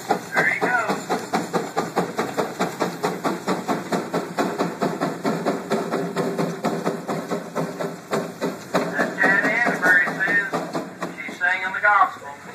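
A Case steam traction engine climbing an incline, its exhaust stack chuffing in a steady rapid rhythm that continues throughout, loud and close, with someone talking over it.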